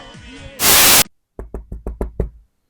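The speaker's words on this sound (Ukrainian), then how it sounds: "Там хтось стукає, йди подивись" Someone knocks on a door in a rural home, about seven sharp, close raps in a quick, uneven rhythm. A brief burst of hiss comes before them, then silence.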